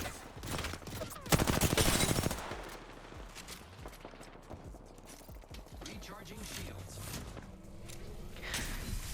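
Rapid bursts of gunfire in a shooter video game, a loud volley early on followed by scattered shots and clattering effects under intermittent talk.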